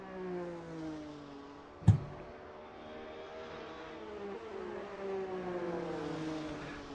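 Alfa Romeo race cars on a circuit during an endurance championship race, engines droning steadily at a distance with shifting pitch and one brief sharp knock partway through, no voices.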